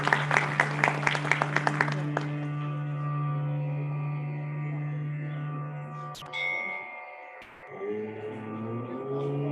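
A short round of crisp, evenly spaced claps opens an agri-food conference session, then gives way to a steady, sustained tonal drone that carries on alone, with no talking.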